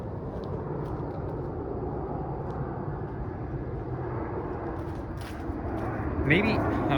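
A low-flying fixed-wing airplane passes overhead along a suburban hiking trail, a steady broad engine rumble that holds throughout and swells slightly near the end.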